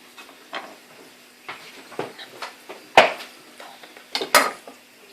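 A wet knife cuts food at angles on a board, giving a quiet series of irregular taps and sharp clicks, with two louder knocks near the end.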